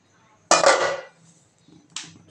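A metal lid drops onto a cooking pot of chicken biryani with green chilies and salt, a sharp clattering clank followed by a fainter second clink about a second and a half later.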